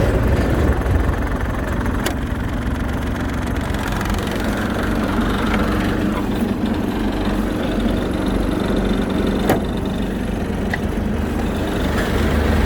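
An ISEKI SIAL23 Japanese mini tractor with a soil tiller runs with its PTO engaged, the engine holding a steady, loud low drone with a couple of faint clicks.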